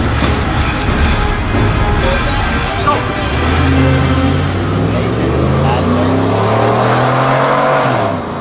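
A 2015 Ford F-150 with a 5-liter engine revs hard and accelerates, the loud engine note climbing in pitch through several gear changes and fading slightly at the end, with talk over the start.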